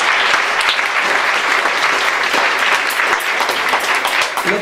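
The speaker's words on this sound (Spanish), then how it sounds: "Un aplauso al Señor." A church congregation breaks into loud, steady applause that fills the room from start to finish.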